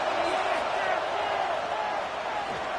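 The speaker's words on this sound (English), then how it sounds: "Listen to this crowd just shaking the girders of this place trying to help their defense." A home crowd roars at a college football game, a dense, sustained stadium wall of noise that stays loud and steady throughout with no break.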